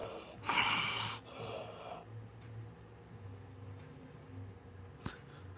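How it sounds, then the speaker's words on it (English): Heavy, rough breaths sound up close, with a loud rasping burst early and quieter wheezy breathing trailing off afterward, with no talking. "You're breathing all hard."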